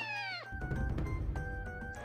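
A cat in the video game Naruto Ultimate Ninja Storm gives a short, falling meow at the start. Game sounds and music take over right after it.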